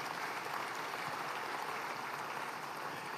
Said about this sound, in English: I think you have to clap your hands for that.